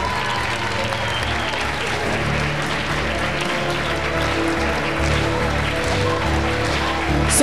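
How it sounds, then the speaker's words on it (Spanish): A full crowd claps loudly and continuously at a dance academy's end-of-year closing event, sustained applause that grows a little stronger toward the end. "¡Un fuerte aplauso para los dos!"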